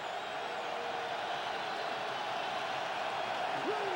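Stadium crowd at a Packers vs Bills football game, a steady broad roar of many voices cheering throughout without a break, with faint whistles rising above it.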